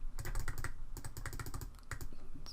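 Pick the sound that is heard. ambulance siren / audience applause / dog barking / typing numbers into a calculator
typing numbers into a calculator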